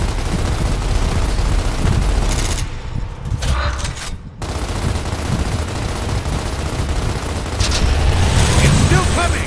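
Video game combat in Gears of War: dense, continuous gunfire and bursts of automatic weapons with booms fill the clip, loud and close, briefly dropping out before resuming, and voices are shouting under it.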